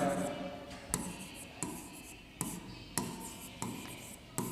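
Pen writing a definition on a board or paper, a series of close scratchy strokes with regular sharp taps roughly every second, alone with no voices.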